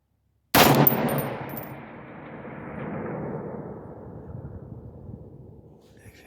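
A single loud rifle shot from a 16-inch Palmetto AR-10 fired outdoors at long range cracks sharply after a brief silence, then rolls away in a long fading echo.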